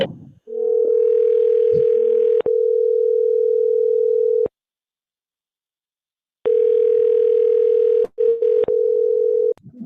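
A forwarded telephone call produces a loud, steady electronic ringing tone in long sustained bursts, broken by a full silence and a few short gaps, heard up close with no other sound.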